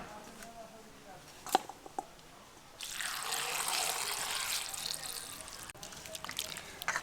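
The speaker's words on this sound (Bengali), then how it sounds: "আঙুরগুলোকে আমি খুব ভালোভাবে জল দিয়ে চটকে চটকে ধুয়ে নেব, যাতে এর মধ্যে থাকা নোংরাগুলো ভালোভাবে বেরিয়ে যায়।" Grapes washed by hand in a bowl of water, with soft splashing and trickling that swells midway and continues steadily, close and fairly quiet, after a few earlier clinks.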